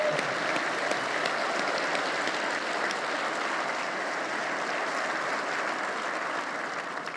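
A crowd at a fire school opening ceremony applauds steadily for several seconds, a dense, even wash of clapping that holds its level throughout with no voices rising above it.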